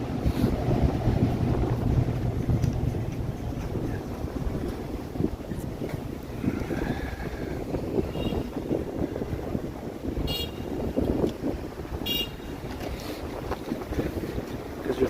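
Strong, cold winter wind buffets a handheld gimbal microphone outdoors in Toronto during an extreme cold warning, producing a continuous low rumbling roar with no talking.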